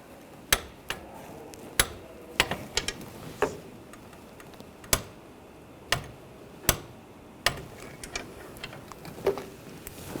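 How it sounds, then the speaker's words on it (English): Close, sharp metallic clicks come from a torque wrench as it ratchets and tightens the master cylinder nuts on a 2014-2018 GMC Sierra 1500, irregularly spaced over a quiet background with no speech. "Now we're going to torque these to 24 foot-pounds."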